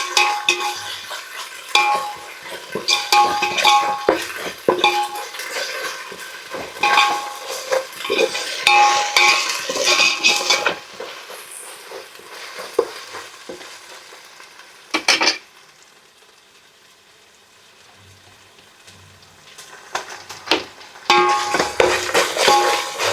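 Ginger garlic paste, mint and coriander sautéing in a pan for chicken biryani, with loud metal spoon scrapes and clinks against the pan over a soft sizzle, then a quieter pause before stirring resumes.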